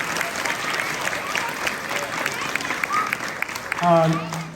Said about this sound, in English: parents, give them a round of applause